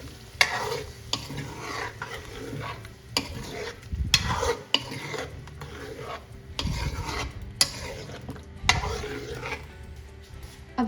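Aloo methi, a potato and fenugreek mixture, being stirred in a pan: repeated scraping strokes of a spoon against the metal with a soft sizzle underneath, close and fairly loud, no talking.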